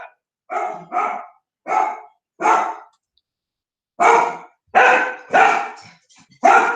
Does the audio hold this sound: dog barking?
yes